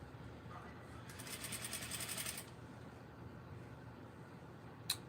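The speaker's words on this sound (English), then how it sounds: "I'm just going to sew all the way down to the end and do all the casings" A home sewing machine stitching fabric casings on craft items runs in one brief, fast, even burst, fairly close, with a quiet room around it and no one talking.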